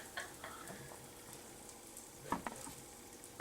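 Buttermilk pancakes frying in a pan give off a faint, steady sizzle, with a few soft clinks of a utensil near the end and no talking.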